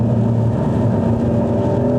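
A Porsche 992.2 GTS engine pulling hard under acceleration, a dense, continuous low mechanical drone with steady harmonic tones, close and loud for two seconds without talk.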